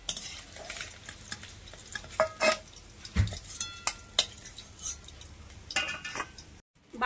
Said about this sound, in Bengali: বাকি মাছগুলো ভেজে নিচ্ছি।